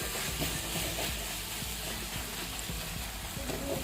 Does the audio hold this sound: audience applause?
no